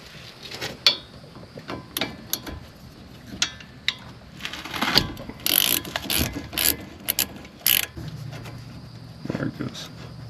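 Ratchet wrench backing out a 12 mm bolt during a brake job on a 2013 Ford Fiesta, with bursts of quick clicking pawl ratchets separated by pauses and light handling noises, close up.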